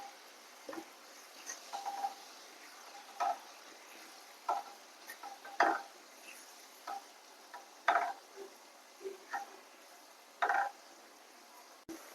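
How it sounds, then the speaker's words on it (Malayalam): Melted jaggery and grated coconut being stirred in a pan, with irregular scraping and tapping strokes of a spoon against the metal over a quiet background, each stroke short and close. "തേങ്ങയും കൂടെ ഇട്ട് നന്നായിട്ടൊന്ന് മിക്സ് ചെയ്തെടുക്കാം."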